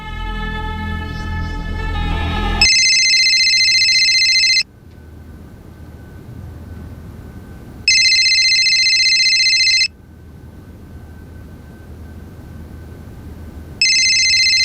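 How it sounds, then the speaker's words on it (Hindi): A telephone rings loudly in steady repeated bursts separated by short pauses, with a faint hum between rings and no talking. "फोन उठाओ योगेश"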